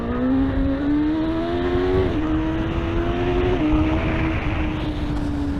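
A Suzuki GSX-S1000 motorcycle engine pulls hard through the gears on the road, its rising tone stepping down at each of a couple of upshifts before climbing again, loud and close with wind rush, and no talking.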